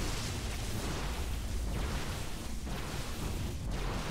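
A cancelled Protoss Nexus blows up in StarCraft, a dense rumbling burst of explosion noise that fills a few seconds with no clear voices.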